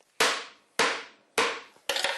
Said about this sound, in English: I had to pound them in really hard with a big hammer